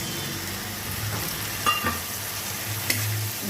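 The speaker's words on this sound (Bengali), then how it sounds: "এবারে আমি এই যে মশলাটা ভিজিয়ে রেখেছিলাম সমস্ত গুঁড়ো মশলাগুলো এটা এখানে দিয়ে দিলাম" Soaked ground spices are tipped into frying onions and stirred, producing a soft steady sizzle with a few scraping knocks of a spoon against the pan, no voices.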